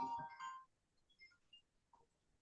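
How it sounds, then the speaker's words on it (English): A phone ringtone chimes indoors: a short, bright electronic ring at the start, then near silence with faint background sounds. "Now my phone is ringing."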